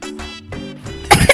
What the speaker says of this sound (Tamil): அந்த புகை மூக்குக்குள்ளார போய் இருமல் வருதோ